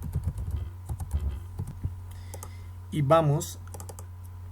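Quick bursts of computer keyboard typing while a folder is created in a coding tutorial, clicky strokes heard between and after a man's speech in Spanish.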